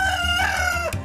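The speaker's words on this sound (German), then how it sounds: "Auch die 14 Hühner, die Gans und der Gückel brauchen jeden Tag ihr Futter." A rooster crows over farmyard hens and a goose on a Swiss farm, one drawn-out, loud, close call that falls off near the end.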